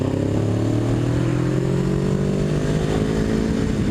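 A motorcycle accelerates to pass a tractor on a country road, its engine note climbing steadily under constant close, loud drone with rising harmonic tones and no talk.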